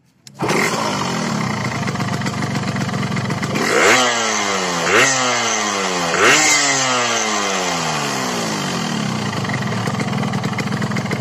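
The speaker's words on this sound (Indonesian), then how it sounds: "Kemudian kita hidupkan kendaraannya." A Yamaha RX King motorcycle, a two-stroke with a hesitation fault, starts up and runs loud and close, holding a rough idle with three rising throttle blips that fall back, no voices.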